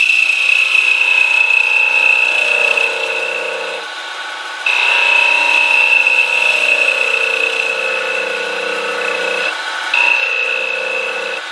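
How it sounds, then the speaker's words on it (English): A pen mill cuts the end of a pillbox tube for a flat face, a steady high-pitched machining whine with grinding texture that dips briefly partway through and then resumes, close and loud. "it can be used as a guide for the mill for milling the end of this pillbox"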